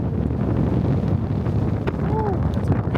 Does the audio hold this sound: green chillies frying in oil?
no